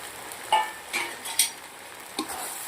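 Fried potatoes being stirred with coriander and green onion for crispy chilli potato: a handful of soft, scattered scrapes and light clinks over a quiet kitchen background.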